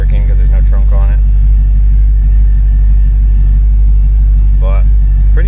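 Deep, steady burble of the Hellcat engine in a restomod classic Dodge Charger idling close by, a loud low rumble throughout with brief speech at the start and near the end.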